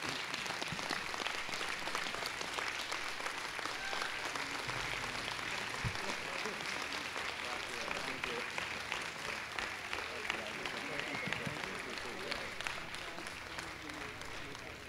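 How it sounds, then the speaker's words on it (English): Sustained round of applause from a church congregation for the pastors on stage one morning, steady and full throughout, with crowd voices mixed in. "one more round of applause and appreciation for all the pastors up here this morning"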